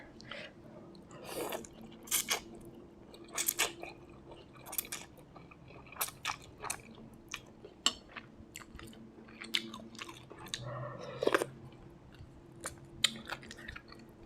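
Close, crisp crunching of fried garlic eaten alongside a bowl of pork noodle soup with yellow egg noodles and crispy pork rinds, with repeated sharp bites and steady chewing throughout, no talking.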